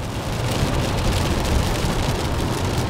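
Torrential rain hammers a 2018 Nissan Leaf while it drives, a loud steady dense roar of drops on the car body with road noise underneath.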